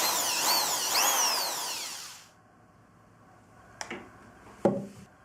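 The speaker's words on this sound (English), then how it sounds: "I just stick it in the end of the drill." A power drill fitted with a carbide burr spins up with a loud rising-and-falling whine for about two seconds, then stops; a couple of sharp knocks follow in the quiet.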